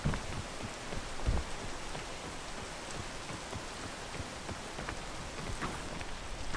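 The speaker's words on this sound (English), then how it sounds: "don't climb when it's raining" Rain falling steadily in the video game PEAK, a soft, even patter of drops with a few louder taps, heard alone at moderate level.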